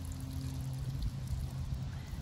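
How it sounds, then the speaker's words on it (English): Water pours steadily onto cucumber seed mounds in a garden, a soft continuous splashing with a low rumble throughout and no talk. "Now just water them in a little bit,"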